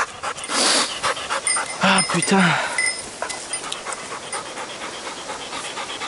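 A hunting dog pants in quick, close bursts after retrieving a bird during a small-game hunt, with a short exclamation from a man partway through and faint clinks nearby.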